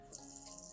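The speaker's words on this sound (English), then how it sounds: "At first, I rinse the eggshells thoroughly under running water." Eggshells are rinsed under a running kitchen tap: a steady, soft hiss of flowing water with a faint splashy edge, continuous and close for under a second.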